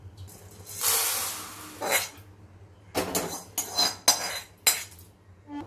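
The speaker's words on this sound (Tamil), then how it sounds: "இப்போ இதை எடுத்துட்டு உளுத்தம்பருப்பு போட போகிறேன்." Dry urad dal poured into a pan for roasting while making garlic idli podi, a few quick rattling bursts of lentils hitting metal with scraping in between, close by and moderately loud.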